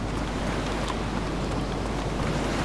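A continuous low roar of sea waves and wind in the video game DayZ, steady and fairly loud, with no distinct breaks or voices.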